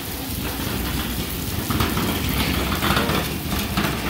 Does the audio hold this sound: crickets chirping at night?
no